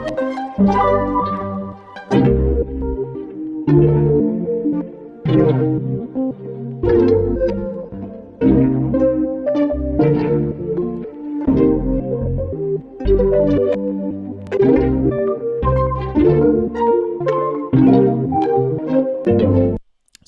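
Looping piano pattern at 114 beats per minute in 3/4 time, with rhythmic chords struck in a steady repeating cycle and heavy effects colouring the tone, played alone without voices.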